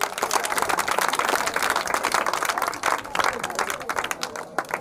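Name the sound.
children clapping for themselves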